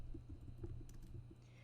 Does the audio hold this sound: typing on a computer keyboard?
yes